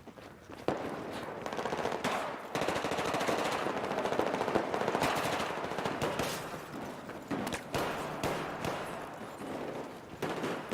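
Sustained machine gun fire in Battlefield 4 Gunmaster, dense rattling bursts that run almost without pause for several seconds, loud and close, with brief gaps between volleys.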